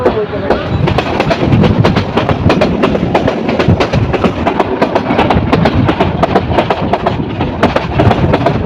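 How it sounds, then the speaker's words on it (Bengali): Dhaka-bound Kishorganj Express leaving Kishorganj station, with a loud, steady run of sharp wheel clacks over rail joints above a continuous rumble. "ঢাকা উপমুখী কিশোরগঞ্জ এক্সপ্রেস ট্রেনটি কিশোরগঞ্জ রেল স্টেশন ছেড়ে যাচ্ছে"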